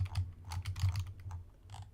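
Fast, light keystrokes clatter on a computer keyboard in irregular bursts, close and fairly quiet, with no talking.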